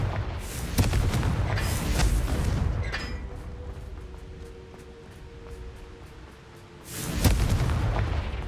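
Blasting-spell explosions in a wizarding video game: two loud booming bursts, one at the start and another near the end, with a quieter rumbling stretch between them.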